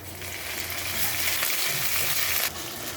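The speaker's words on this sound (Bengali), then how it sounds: "পেস্টটা ভাজা হয়ে গেছে, দিয়ে দিলাম আদা রসুন বাটা" Ginger garlic paste frying with onions in a pan, a dense, close sizzle that stays steady and loud, with faint stirring scrapes and no voices.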